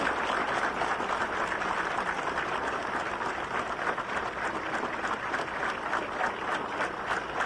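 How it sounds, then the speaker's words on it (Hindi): Sustained crowd applause at a Jharkhand government ceremony where the Chief Minister hands appointment letters to successful JPSC candidates, dense continuous clapping from many hands, even in level and heard alone without talk. "जोरदार तालियां होनी चाहिए।"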